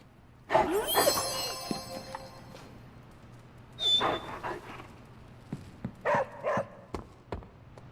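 A dog in the video game Marvel: Midnight Suns gives a few loud, close barks and yips, then quieter whimpers and short barks come in scattered bursts over a low steady hum.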